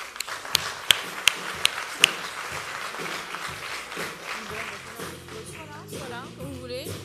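An audience applauds as a speaker from Uber walks onto the stage at a French business event; a few sharp claps stand out early, then the clapping fades under a voice talking near the microphone.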